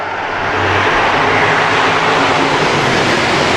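Modified race cars roar off at the green flag of a Washington Modified Tour A-Main at the Central Washington State Fair, a loud, sustained, rising engine drone that swells and holds.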